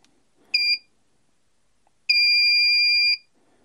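A $16 battery tab spot welder powering on gives two loud, clean electronic beeps, a short one and then a longer held tone of about a second, with silence around them.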